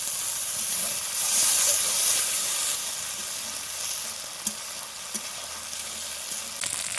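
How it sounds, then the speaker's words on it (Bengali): Cumin paste and ginger-chili paste hit a hot pan along with rinse water from the spice plate, a loud, hissing sizzle that surges early and then settles into a steady crackle with a few sharp ticks. "এবার দিচ্ছি জিরে বাটা, বাকি আদা লঙ্কা বাটা। মশলার প্লেট ধুয়ে জলটা দিয়ে দিচ্ছি।"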